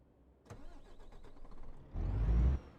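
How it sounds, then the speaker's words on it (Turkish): A Renault Premium truck engine in Euro Truck Simulator 2 cranks with a rapid chugging starter for about a second and a half, then catches into a loud, deep rumble that settles. "Hemen şöyle bir marşımıza basalım abi"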